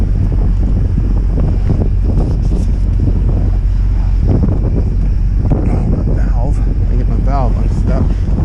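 Strong winter wind at an oilfield in -20 degree cold buffets the microphone in a constant low, gusting roar, with a voice briefly audible beneath it.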